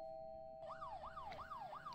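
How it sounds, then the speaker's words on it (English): Rising and falling wail of a police siren in the video game Fears to Fathom, repeating in quick cycles, faint and somewhat distant, over a steady background tone. "we hearing sirens"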